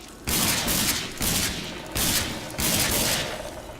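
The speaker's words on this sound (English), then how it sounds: "thanks very much, Dan Hagar, for just giving me a crappy little pistol" Pistol gunfire in the video game Rage, several sharp shots followed by rolling bursts in four clusters, loud and close with no talk.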